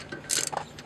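A torque wrench tightening a 7mm hex-head brake caliper bolt on a Mazda 3 gives a quick metallic ratcheting click, a short close mechanical snap.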